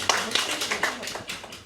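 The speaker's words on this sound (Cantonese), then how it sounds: "所以俾掌聲俾阿 Bell 姐啦" An audience at a business networking chapter meeting claps together, a quick burst of sharp, uneven hand claps over less than two seconds, fading slightly toward the end.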